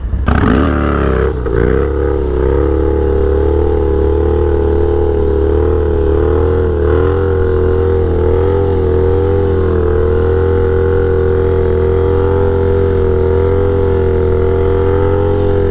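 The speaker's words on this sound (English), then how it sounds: "been way too long since I got a good wheelie on the Harley" A Harley motorcycle engine roars loud and close during a wheelie, with a sharp rev at the start settling into a sustained, steady drone that holds for the full stretch.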